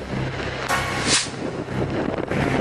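Steady roaring wind with rain in a storm in Isabela, Philippines, broadband rushing noise gusting louder midway, buffeting the microphone throughout.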